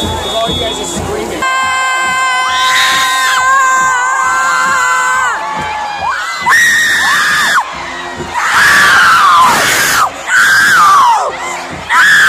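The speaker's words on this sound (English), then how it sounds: "All you guys are screaming." A crowd screams and cheers at a high school football game, loud and close, with shrill sustained shouts and whoops rising and falling in waves and children's voices prominent throughout.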